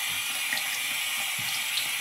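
Lukewarm water runs steadily from a tap into a sink for face washing, a continuous close hiss and splash with no talking.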